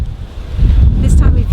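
Wind rumbles heavily against the microphone in low, blustery bursts, loud and close.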